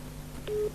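A telephone busy tone after a dropped call sounds as one short, steady beep near the end, over a faint low hum.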